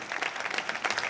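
Dense applause from an outdoor audience in a town square at a public event, steady and sustained throughout with no pause, moderately loud and fairly close.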